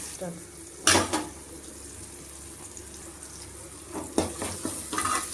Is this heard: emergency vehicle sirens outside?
no